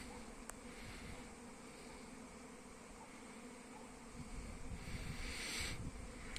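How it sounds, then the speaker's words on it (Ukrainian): A honeybee colony flies around its hives on a winter day, a steady close buzzing of many bees with one brief louder pass near the end. "Ось так аж нас сім'я літає. Немає такого вулика, де б не літали."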